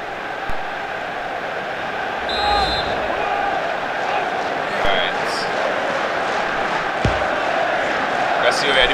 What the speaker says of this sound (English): Oh, the crowd loves that, you know.